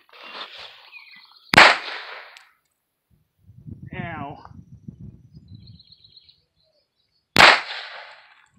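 Beretta 950 Minx pistol firing .22 Short rounds, two sharp, loud single cracks several seconds apart, with brief talking between them.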